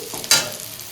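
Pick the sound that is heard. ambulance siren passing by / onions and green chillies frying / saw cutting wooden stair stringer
onions and green chillies frying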